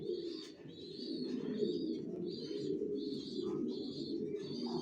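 Prize-winning racing pigeons coo in a loft, giving repeated soft, throaty calls over a steady low murmur of many birds close by.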